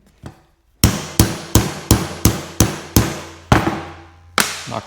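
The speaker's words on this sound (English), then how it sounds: "Knock our next hole in there." Loud hammer strikes drive a hole punch through a folded awning strap held in a small vise, about nine close sharp blows in a steady rhythm after a faint tap, with no talking.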